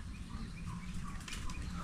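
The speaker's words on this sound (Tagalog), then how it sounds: "Ayan na yung ating mga kalapate" Pigeons in a loft beat their wings in a quick, close flurry of flapping, with faint bird sounds in the background and no voices.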